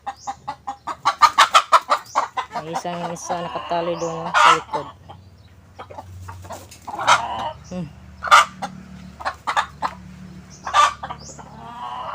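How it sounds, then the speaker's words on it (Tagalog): Chickens cluck and a rooster crows in a backyard coop, close and loud, with bursts of repeated clucking and several crows while a person talks among them. "Yan pala, kulungan ng mga manok ni Mister."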